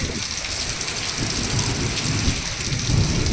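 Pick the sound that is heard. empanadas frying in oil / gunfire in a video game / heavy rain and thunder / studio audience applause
heavy rain and thunder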